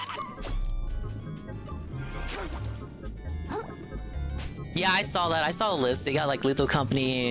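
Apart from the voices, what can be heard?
small creatures barking like dogs in Another Crab's Treasure video game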